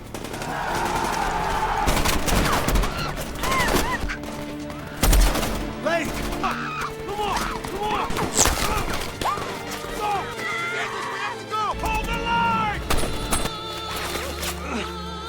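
Gunfire in a chaotic war film rescue scene: repeated bursts and single shots crack loud and close throughout, mixed with a dense score, shouting voices and crashes.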